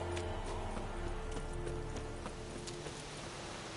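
Steady clip-clop of horse hooves in the video game The Witcher 3: Wild Hunt over a dense, continuous background hum, with no one speaking.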